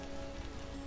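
Steady rain falling in the video game Vintage Story, a dense continuous hiss of drops on surfaces with a low steady hum beneath, even and unbroken throughout.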